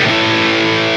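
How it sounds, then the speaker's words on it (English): A single sustained, loud distorted electric guitar chord rings out through a Line 6 HX Stomp distortion pedal with the Rev Gen amp and cab, dense and steady with no talking. "That's the distortion pedal and the amp and cab of the Rev Gen."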